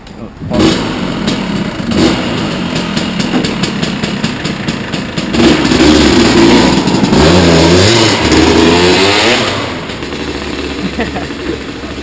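A motorcycle engine revs and accelerates nearby, its loud mid-pitched roar swelling and then fading over several seconds, mixed with surrounding chatter and background noise.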